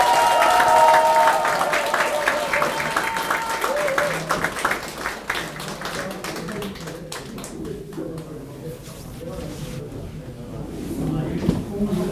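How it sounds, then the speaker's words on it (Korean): An audience at a party members' meeting in a local office in Pohang claps, loud at first and then thinning into scattered claps, with background talk and a brief tone near the start. "다시 한번 큰 박수 부탁드리겠습니다"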